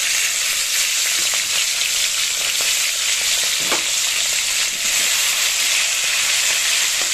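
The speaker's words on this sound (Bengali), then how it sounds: "এবার দিয়ে দেবো চিংড়ি মাছ" Shrimp frying in mustard oil in a wok, a steady loud sizzle and crackle running throughout with faint scattered pops and stirring, no voices.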